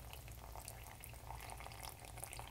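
Hot water is poured onto ground coffee in an Aeropress, a soft, continuous trickling pour at low volume with no voice.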